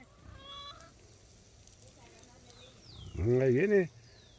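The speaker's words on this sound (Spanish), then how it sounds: "Aquí está, los gansos, ahí están" Geese at their little farm pond let out a loud, close burst of honking calls lasting under a second, after quieter bird sounds and faint background noise.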